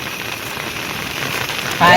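Heavy monsoon rain pours down in a dense, steady hiss by a creek, with a louder burst of splashing at the very end.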